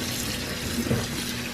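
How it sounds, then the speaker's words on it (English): Water running from a tap over a tie-dyed scarf in a colander, a steady close splashing stream with a small gurgle in the middle of the brief stretch. "I use a colander so it doesn't set in the dye that I'm trying to rinse out."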